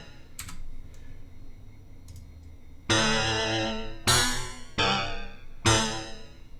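Four slow notes from a Korg Volca FM synth ring out one after another, each bright, metallic chord swelling with a gentle, slow chorus wavering shimmer as it decays.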